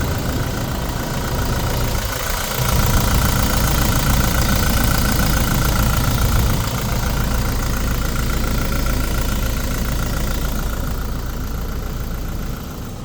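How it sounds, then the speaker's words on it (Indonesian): A diesel engine in a 2019 Toyota Hilux 4x4 pickup idles steadily and loudly nearby, a continuous low rumble with a faint knocking chatter throughout. "kalau mau dengerin suara mesin ya"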